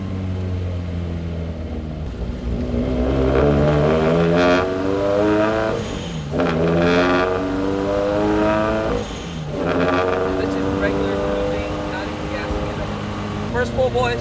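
A turbocharged Subaru BRZ with a new, quieter exhaust and a blow-off valve pulls hard through the gears. The engine drone climbs steadily, and sharp breathy whooshes mark each shift. It is heard loud from inside the car, with a voice at times.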